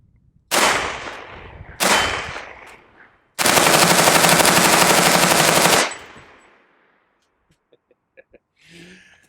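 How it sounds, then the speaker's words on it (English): A UMP 40 submachine gun firing 165 grain Federal rounds during a ballistic blanket test: two short, loud, close bursts, then one long sustained burst of rapid fire that stops abruptly. "we have some 165 grain. This is federal stuff from LAX Ammo out of our UMP 40 submachine gun"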